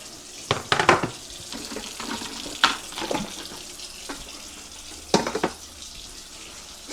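Water from a kitchen faucet runs over freshly cut red onion, a steady rinsing hiss broken by a few sharper splashes and clatters.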